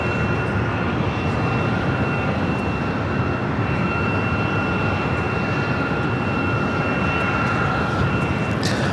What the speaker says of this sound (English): Next arrival is Delta Airlines flight 463 coming in from Kahului, 767-300ER